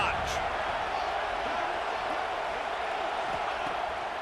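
A stadium crowd in the EA Sports College Football 26 video game keeps up a continuous, dense roar at steady loudness, with a commentator talking over it.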